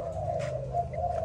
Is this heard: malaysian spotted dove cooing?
yes